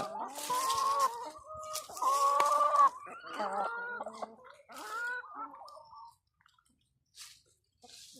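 Laying hens cluck and squawk loudly close by as they are let in to eat mung bean sprouts, a busy run of calls that thins out toward quiet with a few faint scratches at the end.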